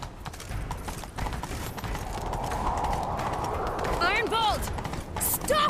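A horse gallops in The Witcher 3 as riders give chase, with loud, rapid hoofbeats running throughout, game voices speaking over them and a whinny-like cry near the end.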